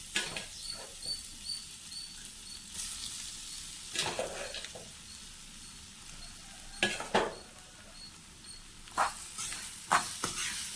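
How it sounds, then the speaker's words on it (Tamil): Hot cooked rice is mixed with curry leaf powder in a pan. There is a faint, steady background hiss, broken by occasional close scraping and clinking strokes of the spoon against the pan, with no voices. "சாதம் போட்டு நல்லா மிக்ஸ் பண்ணிவிடுங்க"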